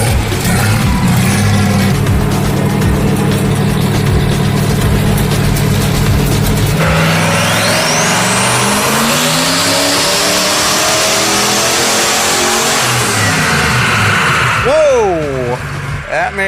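Turbocharged 302 cubic inch engine on a chassis dyno, roaring loud and continuous through a full-throttle pull, pitch sweeping upward as revs climb, then dropping off as the run ends.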